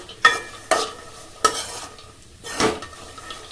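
Peanuts and bread cubes are stirred in hot oil for a Gujarati dry bread snack: four distinct scraping strokes of a spoon against the pan over a faint background sizzle.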